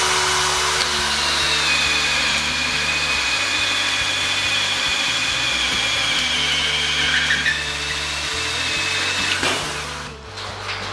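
An Einhell 18V brushless drill bores into very hard wood with a Bosch self-cut bit, giving a loud, steady high whine that drops off near the end.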